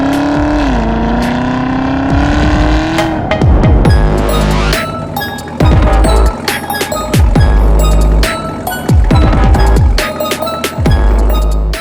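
A 2021 Chevrolet Camaro ZL1 drives hard, its loud engine revving and dropping through repeated gear changes. The rhythmic surges in acceleration come up close and run nonstop, with no talking over them.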